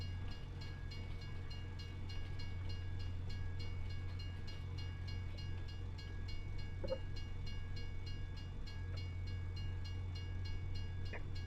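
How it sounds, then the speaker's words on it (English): A train hauled by a classic Deltic diesel engine passes by, producing a steady, loud mechanical drone with a continuous low rumble throughout and no voices. "Classic Deltic engine."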